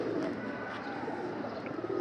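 Pigeons coo in a loft, a soft steady murmur of low repeated calls close by with no talking over them.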